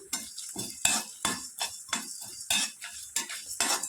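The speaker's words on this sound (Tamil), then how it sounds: "நான் கடாயில் போட்டு எல்லாத்தையுமே நல்லா வறுக்கிறேன்" Cloves, dried chillies and fenugreek dry-roasting in a hot kadai, stirred with a utensil that scrapes and clinks against the metal in quick, repeated strokes, close by and with no talk.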